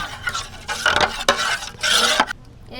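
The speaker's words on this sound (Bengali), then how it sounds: "সব কিছু একসাথে মিশিয়ে দেবো" Rice starch being stirred together with salt and black cumin in a bowl, a wet, squelching swish of mixing in several close, uneven strokes with faint clinks of a utensil.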